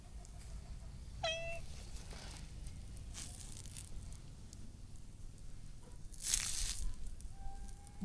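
A cat meows a few short times, with a brief mew early and a louder cry later, fairly close over a soft outdoor background hiss in Indonesia, with no talking.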